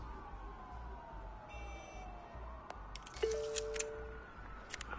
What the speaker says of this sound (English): There are quite a few police cars convening on your location.